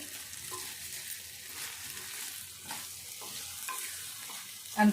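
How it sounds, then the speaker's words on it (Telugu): An onion and tomato curry fries in oil while it is stirred, making a low steady sizzle with soft stirring scrapes, close and quiet, ending with a brief louder knock. "ఉడికినాక ఇట్లా నూనె పైకి వచ్చినాక ఒక్కసారి అయితే ఇట్లా కలుపుకొని"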